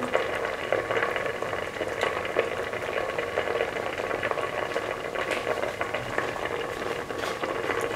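A potato, carrot and coconut milk stew with poached egg simmers in a pot, giving a steady, close bubbling and low hiss that continues evenly without pause.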